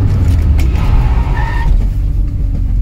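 Constant engine roar of a Fiat Punto GT with a brief high tire squeal as it brakes hard, then the engine rumbles on.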